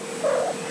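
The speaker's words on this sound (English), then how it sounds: "Another one of my cats." A cat lets out a brief, close, mid-pitched vocal cry, one short sound over a steady background hum.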